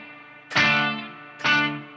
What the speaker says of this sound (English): You can hear very much kind of like a slapback reverb almost.